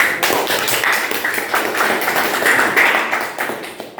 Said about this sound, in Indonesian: beri aplaus untuk Zia juga